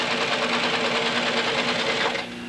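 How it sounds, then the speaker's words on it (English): A patcher sewing machine stitching wet leather counters with heavy thread, a loud, fast, continuous mechanical chatter running close up without a break, easing off slightly near the end. "Once the leather is wet, it sews relatively easy."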